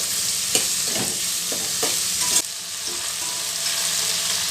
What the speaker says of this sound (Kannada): ಉಪ್ಪಾಕೋದ್ರಿಂದ ಈರುಳ್ಳಿ ಎಲ್ಲ ಚೆನ್ನಾಗಿ ಬೇಗ ಫ್ರೈ ಆಗುತ್ತೆ